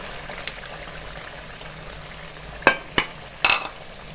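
Chicken karahi frying in oil in a pan after five minutes of browning, giving a soft continuous sizzle, with a few sharp louder clinks or stirring knocks near the end, close up and without speech.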